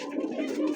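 Pigeons coo softly at a pigeon market where pairs are sold, a short low murmuring coo close by with no talk over it.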